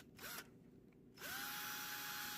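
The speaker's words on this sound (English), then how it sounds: "You do not want to drill all the way into the battery." A power drill boring shallow divots into the tabs of a battery, heard as a short whir, a pause, then a steady close whine that holds to the end.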